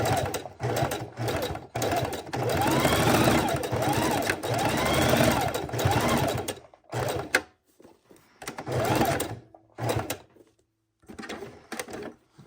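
A sewing machine stitches raw edge appliqué in short, loud bursts of rapid whirring, broken by brief pauses as the fabric is pivoted around corners.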